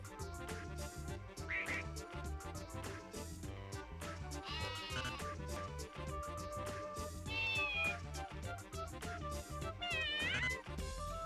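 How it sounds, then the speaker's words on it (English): Cartoonish cat meow sound effects from the PS1 memory puzzle game Iwatobi Penguin Rocky x Hopper 2, short pitched mews recurring several times over dense, steady game music. "There's 2 different cat noises?"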